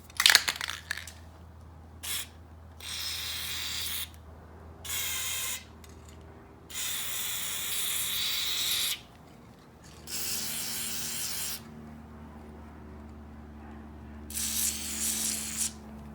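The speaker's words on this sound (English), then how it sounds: "let's get the MPPL multi-purpose penetrant lube. It frees corroded parts right here." MPPL multi-purpose penetrant lube sprayed from an aerosol can onto corroded parts of a Yamaha YFZ450 ATV during teardown, several hissing bursts of one to three seconds each, separated by short pauses, close and steady.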